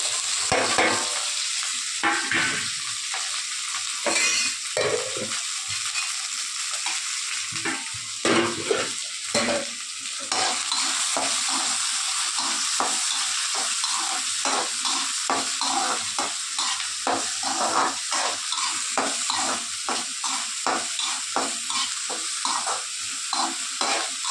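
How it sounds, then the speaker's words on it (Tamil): Chopped onion, green chili and curry leaves frying in a pan, a constant loud sizzle broken by frequent rhythmic spatula scrapes and stirring strokes that repeat close up throughout. "நம்ம வெட்டி வச்சுருக்க வெங்காயம், பச்சை மிளகா, கருவேப்பிலை 3ஐயும் போட்டு வதக்குறோம்."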